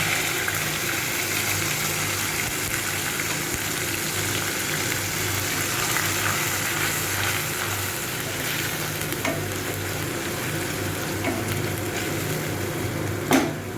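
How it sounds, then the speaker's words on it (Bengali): Ginger and green chili paste frying in a pan for a vegetarian paneer rezala, a steady close sizzle and crackle running the whole time, with a sharp tap near the end. "আদা আর কাঁচা লঙ্কাটা একটু ভাজা হয়ে গেছে"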